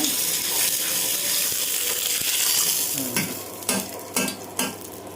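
Steady, loud sizzling of fennel seeds and curry leaves frying in hot butter, followed by several sharp spattering bursts as ingredients hit the pan.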